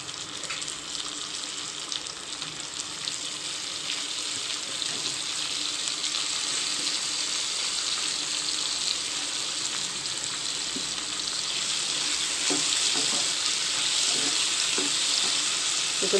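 Tomatoes sizzling and frying steadily in a pan for a jackfruit curry, a loud continuous hiss with occasional stirring clinks, no talking.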